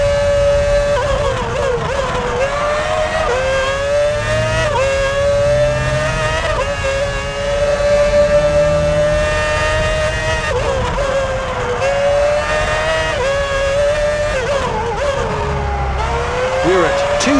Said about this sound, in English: Klein speeds away from his garage.